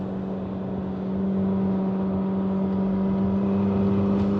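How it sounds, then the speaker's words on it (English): A Porsche 911 or GT3 approaching from behind on the road, a steady rising engine roar and tyre hum heard from inside a McLaren 600LT, growing louder over a few seconds with no talking. "I think there's a GT3 coming up behind us, or like a 911."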